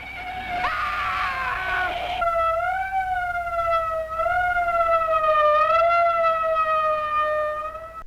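A wailing ambulance siren from the soundtrack of the old film Plan 9 From Outer Space rises and falls steadily, loud and near, sounding alone after a brief burst of other noise at the start.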